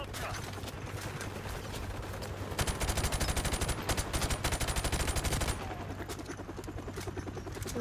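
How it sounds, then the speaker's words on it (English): Rapid automatic gunfire in Call of Duty Modern Warfare Remastered rattles in a dense burst for about three seconds over constant loud battle noise and rumble. "Returning fire."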